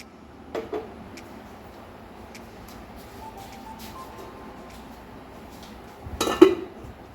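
A metal lid set onto a cooking pot of jackfruit-seed thoran, landing as one brief, close clatter near the end, with a lighter clink earlier over quiet kitchen background.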